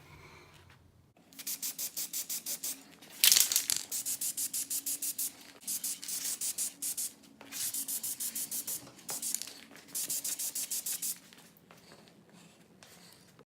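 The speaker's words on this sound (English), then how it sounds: "Now I'm going to go over with a gloss black" Gloss black spray paint hisses from an aerosol can in a garage, applied in a series of steady bursts of about a second each with short pauses between, close and fairly loud, with no talking.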